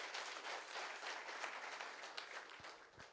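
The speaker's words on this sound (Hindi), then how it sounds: "एक जोरदार ताली आप सभी के लिए।" An audience at a business success and training event bursts into sustained applause, a dense wash of clapping heard from a distance at a modest level, fading slightly toward the end with no voices over it.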